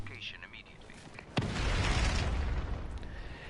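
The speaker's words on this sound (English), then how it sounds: "just pointless explosions, because why not?" A sudden loud explosion in Just Cause 3 breaks through, followed by a long rumbling roar that lingers, with game background noise beforehand.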